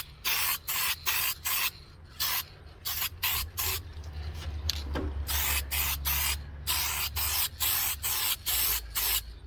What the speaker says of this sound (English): You can see I'm very careful with overspray.